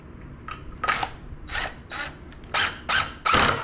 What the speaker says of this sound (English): And I'll put a screw in.